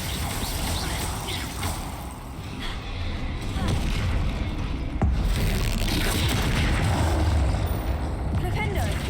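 Booming blasts from the Bombarda explosion spell in Hogwarts Legacy, heavy low rumbles amid busy combat noise with a voice calling out over it.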